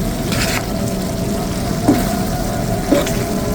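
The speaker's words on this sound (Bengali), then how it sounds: "সব মাছগুলো দিয়ে দিয়েছি, এখন আমি একটু নেড়ে চেড়ে মিশিয়ে দিচ্ছি।" Sea fish with tomato being stirred in a cooking pan, giving a steady close sizzle with two brief scraping clinks of the utensil against the pan.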